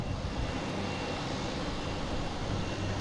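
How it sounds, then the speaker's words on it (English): A JetBlue airliner arriving at Boston Logan airport gives off a steady, broad engine roar that holds at a constant level throughout, with no voices over it. "next coming in, we have JetBlue coming in from"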